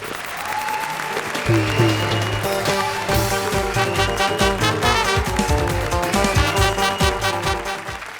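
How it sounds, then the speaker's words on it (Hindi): Studio audience applause at a comedy show, loud sustained clapping lasting several seconds, layered with a musical sting and some background voices. "बजा ताली"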